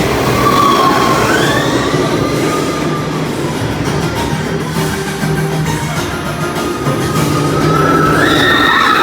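A tour train rumbles steadily along the rails past zebras, a low continuous roar with metallic wheel squeals rising and falling over the top throughout.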